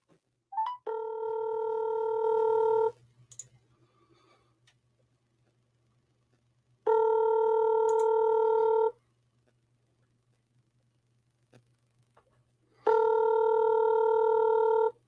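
A telephone line rings during a cold sales call, giving three evenly spaced two-second tone bursts separated by quiet gaps of about four seconds. The tones are clear and near, with faint line hum underneath.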